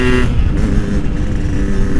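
A stock Yamaha RX King two-stroke motorcycle geared 33/14 rides a mountain road near Merbabu, a loud close engine drone with wind rush, steady throughout.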